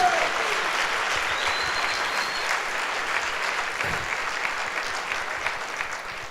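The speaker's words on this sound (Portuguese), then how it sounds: "Dá um aplauso a esse Deus tão maravilhoso." A church congregation at a Sunday service applauds steadily and fairly loudly throughout, a dense wash of many hands clapping at once that tapers slightly toward the end.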